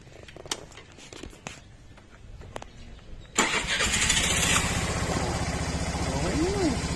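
Scattered clicks and rattles lead to an engine catching and starting up, then a Suzuki Burgman motor scooter idles steadily and loudly nearby.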